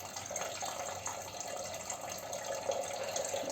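Drinking water runs from a kitchen tap, filling a vessel to heat for tea, a steady close splashing trickle with no talk.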